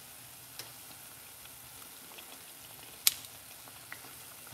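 Jamaican festival dumplings, made with coconut milk, frying in oil with a soft, steady sizzle and occasional faint pops and ticks, quiet and close, with no talking.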